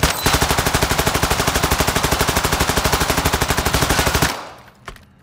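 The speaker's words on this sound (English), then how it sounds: "Hold on, I'm gonna shoot on purpose." Automatic gunfire in Call of Duty: Modern Warfare II, a loud, rapid, evenly spaced burst of shots lasting about four seconds before stopping abruptly, with a faint click afterward.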